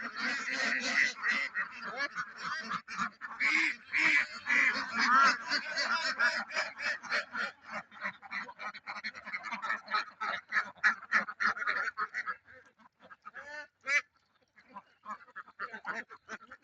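Loud, dense quacking from a large flock of farmed ducks, overlapping calls in rapid bursts that thin out toward the end with a few scattered quacks.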